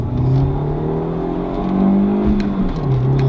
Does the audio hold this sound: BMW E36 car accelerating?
yes